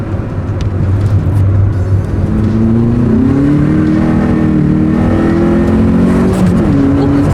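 A car with coilovers and two people aboard revs upward steadily under load in second gear, its pitch climbing as it accelerates, loud and close with constant road and wind noise.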